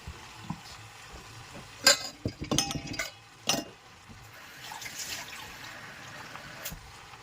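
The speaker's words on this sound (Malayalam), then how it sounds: "ഞാൻ ഇതിലേക്ക് വെള്ളം ഒഴിച്ചു കൊടുക്കുകയാണ്." Water pours into a pot of Kerala-style chicken curry with a few sharp clinks and splashes, then a soft sizzling simmer continues quietly.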